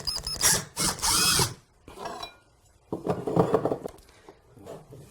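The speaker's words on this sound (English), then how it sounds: "I'm going to hold the drill bit at the center of the stair tread. I'm going to get a little hole started." A power drill bores a small dowel hole into the center of a wooden stair tread, with one loud burst of whirring followed by a shorter, quieter run and a faint final spin, separated by pauses.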